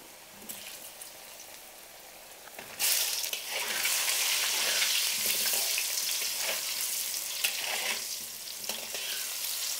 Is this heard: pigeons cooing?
no